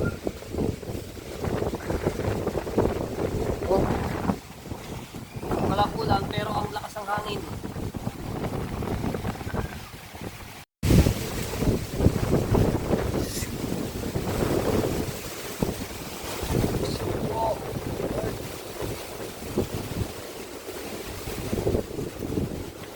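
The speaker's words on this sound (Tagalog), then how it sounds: "Walang ulan pero napakalakas ng hangin." Strong super typhoon wind with no rain roars and buffets the microphone continuously, with gusty surges and a brief dropout midway; faint voices come through under the noise.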